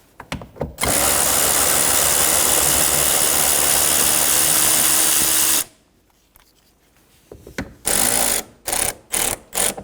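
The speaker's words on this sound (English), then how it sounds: "Remove the screws." Screws being removed from Toyota Tacoma interior trim with a power driver, one long loud whirring run followed by a pause and several short bursts.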